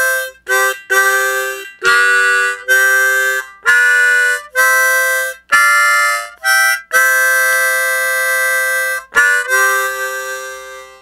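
A harmonica plays the second solo line of a song slowly and loudly, a string of sustained reedy blow and draw notes separated by short breaths, with no voice over it.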